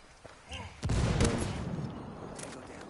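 Sniper gunfire in Ghost Recon Wildlands, a sharp shot cracking out near the start and rumbling away for over a second, with fainter shots and a voice heard around it.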